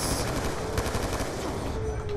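Burst gunfire from a Call of Duty: Black Ops II firefight, a dense, loud stream of rapid shots and explosive noise filling the whole stretch with little break.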